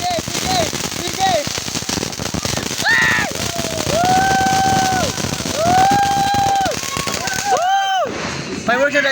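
New Year fireworks go off in a dense, continuous barrage of crackles and pops, with several whistling rockets rising in pitch over it, while people talk and call out nearby.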